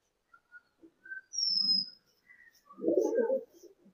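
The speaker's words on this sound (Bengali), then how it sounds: "এই 3টে পায়রা।" Three Punjabi pigeons coo, a soft low burbling call building to a louder, fuller bout near the end, with a few thin chirps and a brief whistle between.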